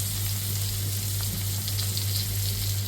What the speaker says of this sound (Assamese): অকণমান ফ্ৰাই কৰোঁ চাওকচোন কেনেকৈ তেল এৰিছে